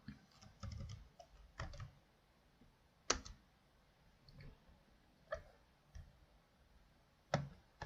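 Keys clack on a computer keyboard as code is typed, in short irregular bursts of crisp clicks separated by pauses, close and fairly quiet, with no voice over them.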